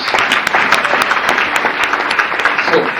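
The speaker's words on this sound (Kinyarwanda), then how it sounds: "Mufashe gukomera Imana amashyi." A church congregation breaks into loud, dense applause, many hands clapping continuously and evenly for the whole stretch.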